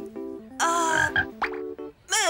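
A frog croaks in a short run of harmonic, tonal calls, repeated several times with brief gaps, fairly close and clear with no voices over it.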